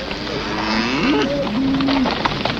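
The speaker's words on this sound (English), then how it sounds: "Driving cattle?" Cattle mooing out on the range during a cattle drive, a few long drawn-out lowing calls over a busy outdoor background, fairly close and loud, with no talk.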